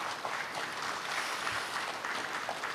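Steady, hissing applause fills a hall at a national March First Independence Movement Day ceremony, honoring the readers of the declaration and a cellist, even and fairly distant with no voices.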